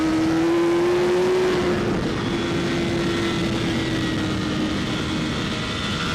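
A superbike engine is heard in a Pro Superbike race, loud and steady as the rider opens the throttle, with a sustained high whine rising slightly then easing over a continuous roar.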